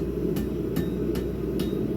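Metal hammered at a forge, four sharp ringing blows spaced evenly over a steady low hum, close and loud with no talking.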